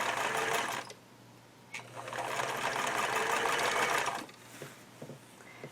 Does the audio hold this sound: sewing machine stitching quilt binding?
yes